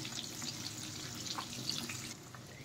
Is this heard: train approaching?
no